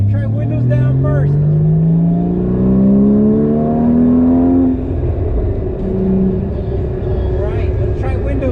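A Porsche Cayman 981 driving with the windows down, engine note climbing steadily through the gears under a rush of wind and road rumble, loud and close, with voices talking over it.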